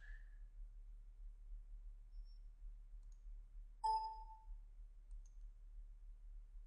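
A single sharp computer mouse click sounds near the middle, clear and close against a quiet low hum, with a few faint ticks and pings scattered around it and no talking.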